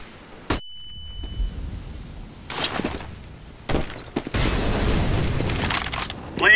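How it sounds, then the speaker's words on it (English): A flashbang grenade detonates in CS:GO on the de_mirage map, with several sharp bursts and bangs across the clip and a thin ringing tone after the first hit. "Deploying flashbang."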